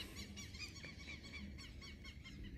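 A lone female goose honks repeatedly on a cloudy farm, a series of nasal calls in an uneven rhythm, fairly faint against low background noise.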